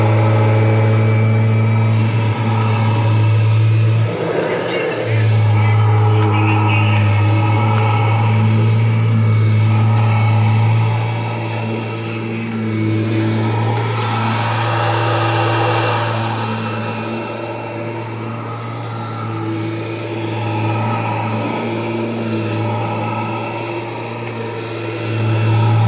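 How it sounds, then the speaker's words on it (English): A 1991 Kirby Generation 3 upright vacuum cleaner runs continuously with a loud, steady motor drone and whine that holds evenly throughout, with no talking. "We're going to run my 1991 Kirby Generation 3."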